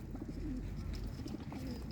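Soft, low cooing of pigeons at an animal market in Ivano-Frankivsk, a few gentle repeated calls over a quiet outdoor background.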